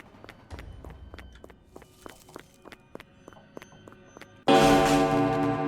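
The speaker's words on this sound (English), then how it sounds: "I heard his footsteps, so I knew." A man's footsteps in the Platform 4 video game: a steady run of crisp, close steps ticking at an even walking pace, then a sudden loud burst of broadband noise near the end.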